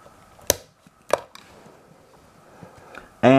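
An X-Acto knife cutting through the barrel of a cap gun gives two sharp, close cuts about half a second apart, a few quieter ticks, then a louder scraping burst at the end.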